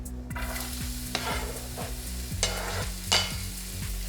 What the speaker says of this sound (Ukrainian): обсмажую на великому вогні, постійно перемішуючи цибульку до золотистості